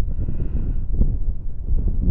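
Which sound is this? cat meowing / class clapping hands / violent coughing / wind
wind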